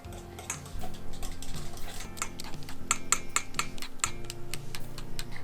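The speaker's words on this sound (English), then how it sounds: "you'll want to completely whisk it in until it's all combined" Rapid, continuous ticking of a whisk against a bowl, close and fairly loud, as oil is beaten into homemade mayonnaise, with no speech over it.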